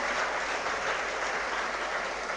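Loud, continuous clapping from a crowd at a motivational seminar for rural students, welcoming a guest who has been introduced, with a steady dense roar of hands and no clear voices.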